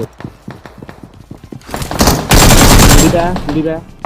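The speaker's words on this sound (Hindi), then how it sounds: "तो फायरिंग कर दी" Rapid automatic gunfire from the shooter game BGMI (PUBG) comes as loud bursts of close shots, then a dense sustained spray of fire and a few rattling shots at the end.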